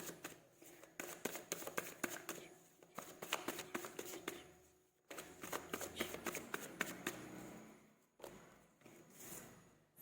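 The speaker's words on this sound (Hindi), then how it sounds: "मैं निकाल रही हूँ कार्ड" Tarot cards being shuffled and drawn, crisp rapid riffling bursts of card flicks repeated in quick runs with short pauses between, close and fairly quiet, no talking.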